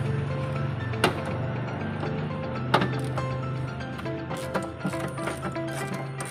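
A ratchet wrench loosens the 8mm bolts on the alternator pulley of a 2010 Toyota Innova, giving rapid metallic clicking with a few sharp clanks, close and clear, with no talking.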